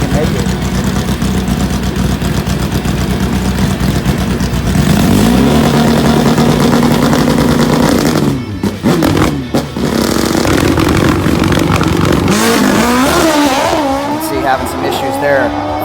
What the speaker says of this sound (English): what is wrong with that motorcycle?